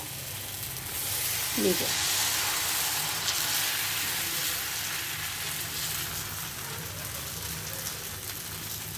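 Cooking oil heating in a pan before making dosa gives a steady, soft hiss that rises slightly after the start and holds evenly, with a brief spoken word near the beginning.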